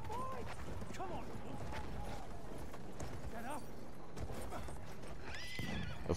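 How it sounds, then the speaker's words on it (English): A horse in the video game Battlefield 1 gallops with rapid clip-clop hoofbeats and whinnies several times, with speech over a dense battlefield background. "Alright, let's get on a horse."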